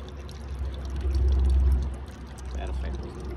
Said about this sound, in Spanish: tiramos el aceite acá